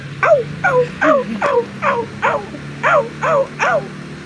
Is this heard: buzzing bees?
no